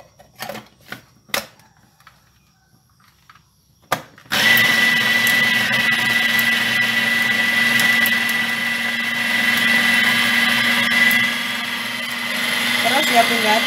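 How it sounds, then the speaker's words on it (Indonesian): An electric kitchen blender grinds soaked mung beans, starting abruptly after a few quiet knocks and a brief voice, then running loud and continuous with a steady whine that shifts slightly in pitch toward the end. "Terus ya bun ya, blendernya sampai habis ya kacang hijaunya."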